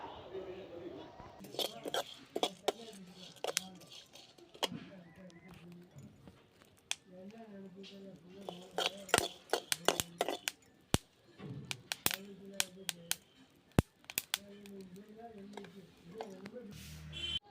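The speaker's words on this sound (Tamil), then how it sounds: "அது வெடிக்கிற சத்தத்தை நீங்களே கேளுங்க" Scattered sharp pops and crackles of cucumber seeds roasting in a pan, irregular and close, with a voice talking over them throughout.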